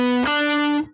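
A single sustained note on a fretted string instrument, a bright distorted tone that swells after a brief lower start and rings steadily before cutting off, heard alone.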